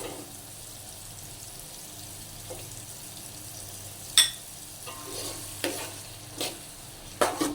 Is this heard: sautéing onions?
yes